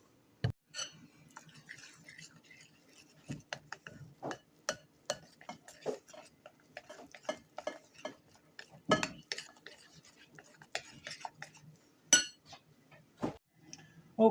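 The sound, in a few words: stirring pie filling until consistent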